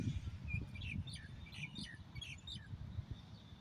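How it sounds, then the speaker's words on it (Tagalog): Several birds chirp and tweet in quick, scattered bursts in a tree in Ben-Gurion Park, Beersheba, fairly close, over a low rumbling background of wind or distant noise. "Hindi siya tumataas, pero napupuno ito ng ibon."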